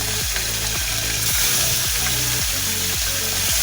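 Koi fish frying in hot oil with a loud, dense hiss filling the space, while a regular low thumping pulse repeats about twice a second underneath, close by.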